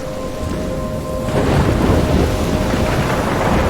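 A heavy thunderstorm rolls through the video game Life is Strange, with dense, loud rain and a deep rumble of thunder that swells partway through and stays strong to the end.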